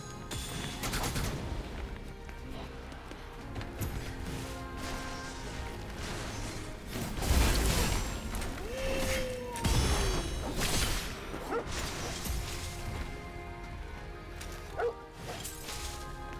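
Combat noise from a video game as an enemy blows up after being hit by a fire weapon: dense rapid bangs and crashing impacts, with a heavier burst partway through, layered over an ongoing game soundscape.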